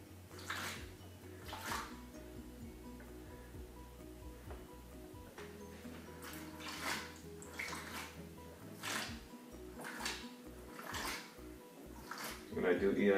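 Water is siphoned from a planted nano aquarium over the plants to lift debris, soft gurgling and sloshing with intermittent splashy bursts, close and fairly quiet, under a low hum.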